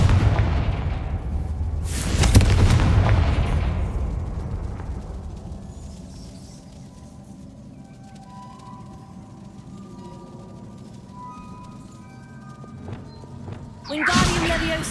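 In the Hogwarts Legacy video game, a Confringo fire spell bursts with a heavy boom. A second blast hits at the very end, and quieter game ambience fills the gap between them.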